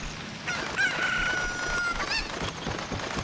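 A rooster crows in Zelda: Ocarina of Time, a single drawn-out cock-a-doodle-doo rising and holding over busy game sounds before trailing off.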